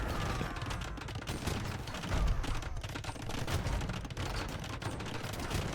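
Cannon galleons firing in a live Age of Empires 2 tournament match, a dense, continuous barrage of booming shots and impacts layered with crackling battle noise, loud and sustained throughout.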